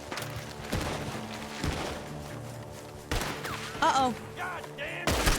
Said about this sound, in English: Oh, the gunshots are coming